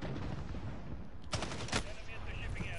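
Gunfire in a first-person shooter game, with sharp shots cracking over a dense, steady wash of in-game noise, one volley standing out midway through.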